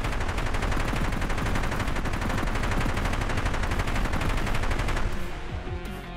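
A helicopter autocannon fires in a video game boss fight, sounding as a loud, relentless stream of rapid rounds that runs for about five seconds, then stops and leaves a lower mechanical hum.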